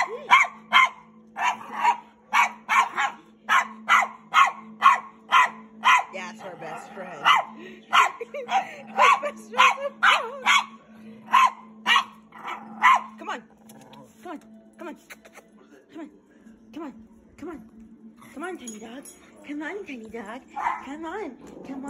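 A small dog barks repeatedly at a frog outdoors, sharp yips in quick bursts that later soften into whimpers and growls, with a person talking and encouraging it over the barking.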